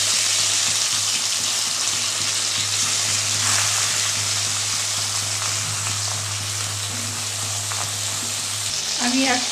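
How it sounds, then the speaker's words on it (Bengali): Eggplant slices, salted and sugared without turmeric, fry in hot oil in a pan, giving a steady, dense sizzle that runs unbroken from start to finish over a low background hum. "ওই তেলের মধ্যে আমি বেগুনটা ভেজে নেব"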